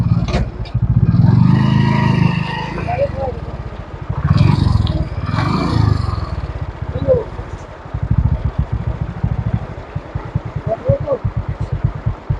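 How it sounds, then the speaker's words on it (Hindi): A motorcycle crosses a washed-out mountain stretch of the Harnai road near Torkhan, its engine loud and close. It revs in surges and rumbles, with scraping and clattering along the way and talk in between. "कोशिश करेंगे कि यहाँ से मोटरसाइकिल गुजर जाए।"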